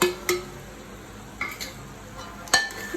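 Pumpkin sabzi cooking in a pan as fried vadiyan and crushed jaggery are added, with a few sharp stirring and scraping clicks over a soft, steady background hiss.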